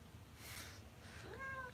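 A cat gives a short, faint meow near the end, rising and then falling, against a quiet background with soft rustling just before it.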